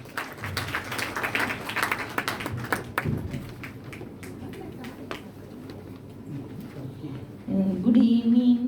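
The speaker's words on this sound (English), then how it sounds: "A round of applause to her." Audience applause at a maternal and child health event in Sri Lanka, as a guest is welcomed on stage: a steady spatter of many hands clapping for about three seconds that thins into scattered claps.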